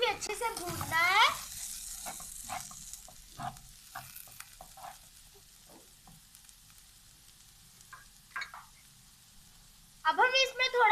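Bun kebab stuffing is stir-roasted in a pan on low heat. Soft sizzling sits under scattered scraping stirs, and a voice is heard briefly at the start and end.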